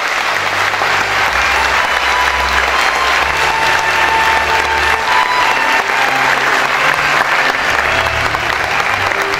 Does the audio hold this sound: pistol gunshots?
no